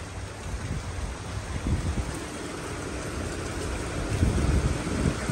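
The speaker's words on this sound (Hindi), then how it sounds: "बारिश पड़ रही है" Steady rain falls with a broadband hiss and occasional heavier patters, fairly close and continuous, no voices.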